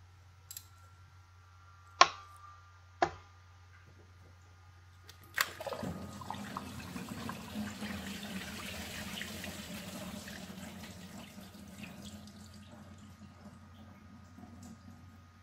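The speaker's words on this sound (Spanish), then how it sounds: "Y aquí estamos ya dejando caer el coolant, el antifreeze." Coolant antifreeze draining from a 2002 Honda Civic engine during a water pump replacement: after a few sharp metallic clicks, a steady trickling pour of liquid begins and runs on, faint and close.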